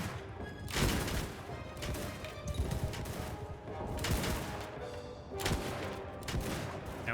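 Musket volleys crack out in Mount & Blade II: Bannerlord, several sharp staggered bursts of massed gunfire spaced a second or two apart, loud and clattering, with no talk over them.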